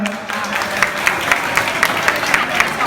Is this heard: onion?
no